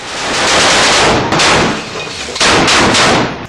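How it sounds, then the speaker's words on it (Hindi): Heavy machine gun fire in bursts, aimed at Israeli troops in Jabalia, Gaza: loud, close, dense volleys with brief gaps between them. "एक लड़ाका मशीन गन से आईडीएफ के ऊपर ताबड़तोड़ फायरिंग करने लगता है"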